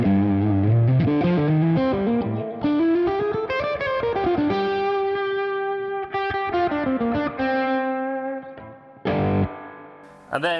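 A distorted electric guitar through a Maxon SD9 distortion pedal plays a loud lead line with sustained, gritty notes and sliding bends, then cuts off briefly before a final burst.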